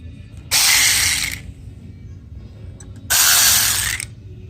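A Husky cordless ratchet whirs in two loud, close bursts, each a steady mechanical buzz lasting about a second, separated by a short quiet pause.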